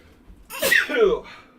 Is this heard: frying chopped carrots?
no